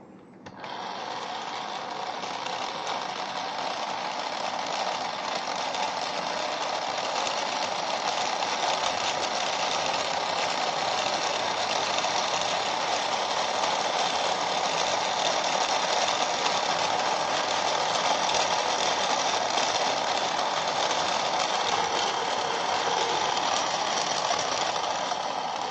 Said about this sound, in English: I'm going to adjust the motor governor until the rubber rollers reach the speed